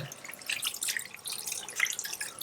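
Water trickles and drips steadily while rinsing shampoo from hair after a first hair transplant, a soft close splashing with small irregular droplet patters throughout.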